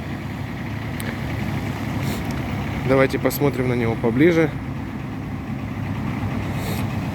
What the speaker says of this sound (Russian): Представляю вашему вниманию японский полноприводный мини-трактор марки Kubota,